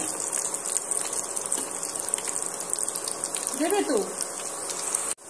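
Raw potato snacks deep-frying in hot oil: a constant close hiss and bubbling, with a brief spoken word partway through and a sharp cut at the end.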